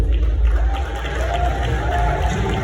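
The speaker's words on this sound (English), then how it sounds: "You can make that round of applause so much bigger than that" An audience at the Genius Creators Summit 2025 in Abuja applauds and cheers, with a steady wash of clapping and crowd noise filling the room.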